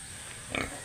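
A short, low pig grunt sounds close by, brief and rough, over a steady background hum.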